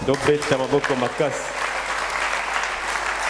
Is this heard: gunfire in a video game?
no